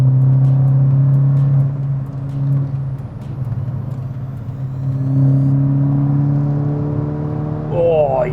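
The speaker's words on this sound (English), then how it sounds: "if you can hear me over the sound of the engine" A car fitted with ECS Tuning 32-way adjustable coilovers drones along at speed, its engine a loud, steady low rumble that swells and eases with the throttle, filling the cabin throughout.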